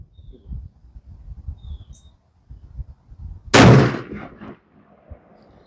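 A black powder gun fires a single loud, sharp shot at an outdoor range, its blast decaying over about a second, with quiet ambient rumble and faint bird chirps before it.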